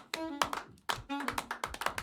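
A small studio audience on a Réunion-linked French TV show claps in sharp, distinct, fairly rhythmic hits close to the microphone, over voices that talk and call out.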